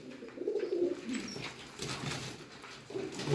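Pigeons of a prized breeding line cooing softly in low repeated throaty phrases, several coos in a few seconds, fairly close and quiet with faint background rustle; no talking.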